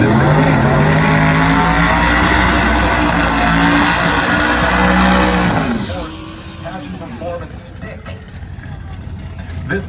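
Drag race cars roar off and scream down the strip at Drag Week 2019, a loud sustained engine blast that drops away after a few seconds, with a commentator talking over the fading noise.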